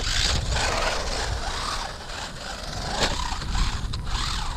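A WLToys 124018 RC car driving and jumping on hard snow, its motor whining under rough scraping and crunching with a bump near the middle, close and fairly loud.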